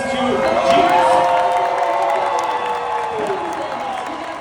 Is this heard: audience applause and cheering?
yes